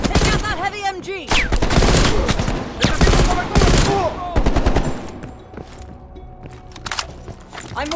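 Heavy machine gun fire in Call of Duty Black Ops Cold War rattles in loud, rapid bursts with sharp gunshot cracks, then eases into quieter scattered shots and background battle noise.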